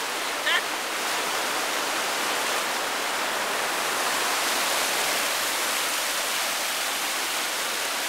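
Water runs down the wet Canon Brook Trail in Acadia National Park, a dense, continuous rushing wash like a stream or small cascade, steady and fairly close throughout.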